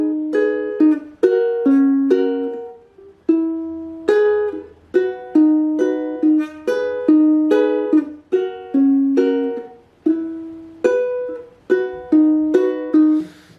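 Ukulele playing a song, plucked notes and strummed chords in a steady repeating pattern, clear and close with no talking.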